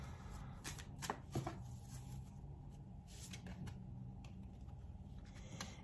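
Tarot cards are shuffled and drawn in a quiet room, a soft continuous patter of riffling and sliding cards with a few sharper snaps, close and faint, with no voice.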